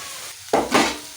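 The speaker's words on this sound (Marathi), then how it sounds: "आणि थोडासा कढीपत्ता जो आहे ना तो सुद्धा चिरून ह्याच्यामध्ये घालते मी" Chopped curry leaves drop into a hot frying pan, two quick sharp bursts of crackling sizzle in close succession over a quiet background, brief and close.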